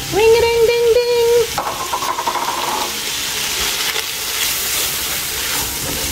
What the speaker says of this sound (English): And now I'm going to add the diced onion.